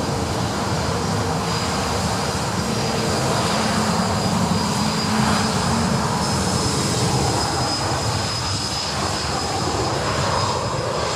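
Jet aircraft passing at Sydney Airport, a loud continuous engine roar, close and steady throughout with no talk.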